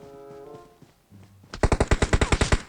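Rapid automatic gunfire in PUBG Mobile, a loud burst of about a dozen evenly spaced shots close by, following a quieter stretch of game sounds.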